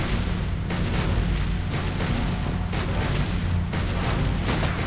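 Gunfire at a marble Abe Lincoln in the Sam & Max video game, a dense continuous barrage of loud booming shots with no break, dominating the soundscape throughout.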